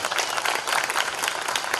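Audience applause at a Hindu Sangamam gathering in Kumbakonam, a dense, steady wash of many hands clapping close by, continuous and loud for the whole moment with no talk over it.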